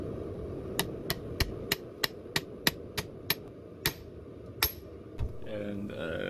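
Steel hammer striking a heated kiridashi blank on an anvil while thinning it out, about a dozen sharp ringing blows in a steady rhythm, then a few slower scattered hits, with a voice starting to speak at the end.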